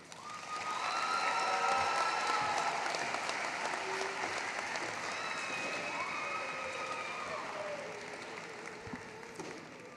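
A high school graduation ceremony crowd claps steadily, the applause swelling early then holding as a broad, somewhat distant roar while a few faint tones drift over it.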